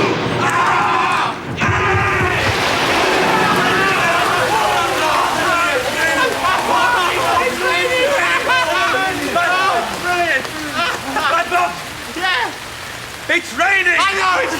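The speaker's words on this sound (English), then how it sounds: "It's raining!" Rain pours down indoors in a dining room in a 1990 comedy series, a dense steady patter under a group of voices chanting and whooping throughout.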